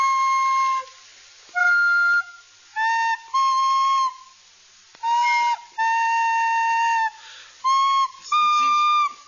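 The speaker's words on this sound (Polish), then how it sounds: "weź ten gwizdek, oddaj ten gwizdek" A whistle blown in a series of short and longer shrill blasts, about eight in all, with a clear steady pitch and strong overtones, close and loud with no talk.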